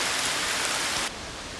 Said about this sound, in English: We got hail. Really teeny tiny ones.